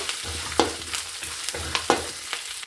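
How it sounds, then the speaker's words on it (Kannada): Curry leaves fry in hot oil until crisp, a loud close sizzle with repeated scraping stir strokes roughly every half second, and no voices. "ಕರ್ಬೇವಿನ ಸೊಪ್ಪು ಚೆನ್ನಾಗಿ ಕ್ರಿಸ್ಪಿ ಆಗೋವರೆಗೂ ಸ್ವಲ್ಪ ಫ್ರೈ ಮಾಡ್ಕೋಬೇಕು"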